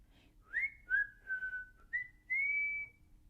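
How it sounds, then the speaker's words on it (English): Person whistling a short tune, a few clear rising and sliding notes up close, quiet and alone, with pauses between phrases. "He whistled all the way there, and he whistled all the way home."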